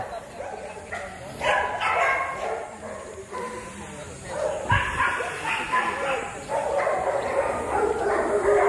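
K9 dogs at an outdoor blessing and small gathering give repeated barks and yips, some near and some farther off, under steady chatter from a crowd of people.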